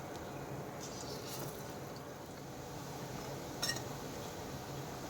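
Polta leaf fritters fry in hot mustard oil in a kadai, making a soft, constant hiss with occasional small pops and a brief clink of a utensil partway through.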